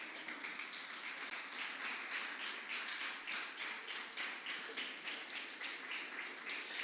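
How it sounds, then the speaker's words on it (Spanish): A church congregation claps hands during a Spanish-language sermon, a quiet, brisk and fairly even rhythm of many claps continuing throughout from a moderate distance. "Dale palmas al Señor"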